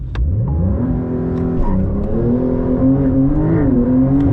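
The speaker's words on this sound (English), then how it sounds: "let's hit a standard launch, shall we? So let's put it into sport mode." Porsche 911 Dakar on off-road tires doing a standard launch in sport mode, its engine note rising steadily and loud from inside the cabin, with rising gear tones and a brief dip at a shift, no talk.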